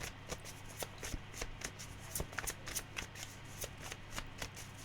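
Tarot cards being shuffled in a steady run of crisp riffling flicks, close and fairly quiet, with no talking over them.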